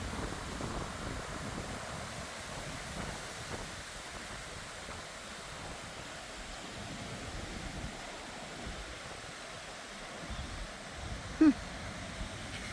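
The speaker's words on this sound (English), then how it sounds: "Yeah, it's blowing again. Yes, I'm taking a video of wind." Wind blows through backyard trees in a humid, green setting, giving a steady broad rushing roar that swells slightly and holds for the whole stretch, with a brief small knock near the end.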